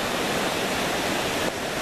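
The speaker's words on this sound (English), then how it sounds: "it's a nice little waterfall here." Small waterfall on a river flowing from Lake Isabel, giving a steady, close, broadband rush of falling water with no pauses and no voices.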